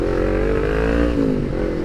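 A custom Kawasaki Ninja 250R streetfighter revs loudly and close by, its engine note holding high and steady before dipping and pulling back up over nearly two seconds.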